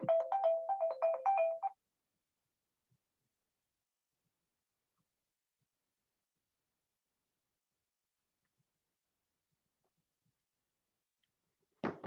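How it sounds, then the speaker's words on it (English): A mobile phone ringtone plays during a budgeting workshop meeting, a brief repeating electronic melody lasting under two seconds and then cut off. Near-silence follows until a short burst of sound at the very end. "I need to silence my phone."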